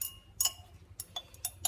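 Glass rod stirring hydrated nickel chloride dissolving in distilled water inside a glass beaker, giving several faint, sharp clinks at irregular intervals against a quiet background.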